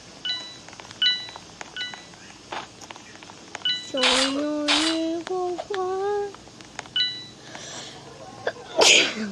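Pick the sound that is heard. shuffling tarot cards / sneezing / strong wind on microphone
sneezing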